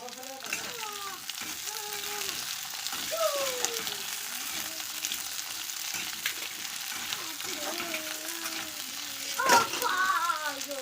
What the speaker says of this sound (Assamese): গোটেইখিনি একেবাৰে ঢালি পেলাই অকণমান ফ্ৰাই কৰি লওঁ।